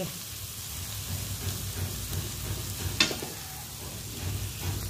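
Bitter gourd (ampalaya) with egg frying in a pan, a steady soft crackling sizzle throughout, with one brief sharp clink partway through.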